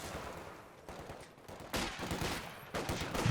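Gunfire rings out in a Company of Heroes 2 battle, with sharp sniper rifle reports among broadband bursts of shots and explosions that swell at intervals over a steady, dense battle rumble.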